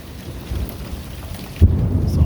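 Hail and rain falling during a Central Texas thunderstorm, a dense continuous patter on surfaces, followed by a sudden deep, close thunder rumble in the last stretch.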